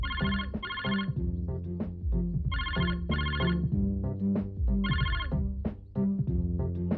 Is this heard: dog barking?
no